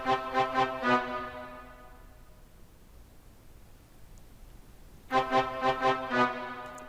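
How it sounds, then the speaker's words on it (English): A soloed brass patch from the Nexus Buzzer Beats expansion plays short staccato stabs in a rhythmic burst, then falls silent apart from faint noise before another rhythmic burst of stabs returns. "there's this brass or wind instrument here."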